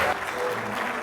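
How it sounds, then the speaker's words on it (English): Audience applause at a corporate customer-day keynote for Zuora, a dense, steady clatter of many hands filling a large room, loud and continuous for about a second. "join me with a warm round of applause for Tien Tzuo, founder, CEO of Zuora"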